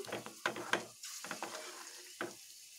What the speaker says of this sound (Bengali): আমি এবার এইভাবে অনবরত নাড়তেই থাকবো।